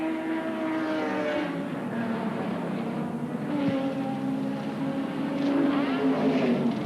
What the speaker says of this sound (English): Gary Scott and the Marlborough Commodore.